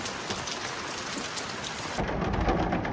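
Monsoon rain pouring steadily in a dense, continuous hiss that swells heavier toward the end, with no voices.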